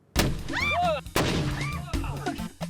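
An Irish cannon fires a cannonball with a sharp, loud blast, followed by excited shouting and a second burst of noise amid reactions from the people nearby.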